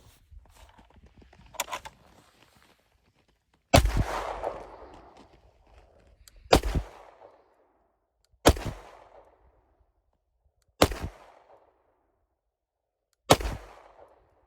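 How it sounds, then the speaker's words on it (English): A handgun fires at a range target about 10 to 15 feet away, with five sharp, loud shots spaced a few seconds apart in slow aimed fire. Each shot rings out with a brief echoing tail, and faint handling noises fall between them. "I'll start out with a 5-round slow aim fire."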